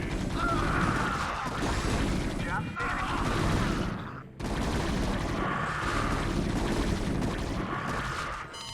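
Hydralisks from StarCraft Brood War attack Terran base structures in a dense, continuous din of rapid clattering spine fire, impacts and mechanical crunching, with a brief dip midway before the barrage resumes at full loudness.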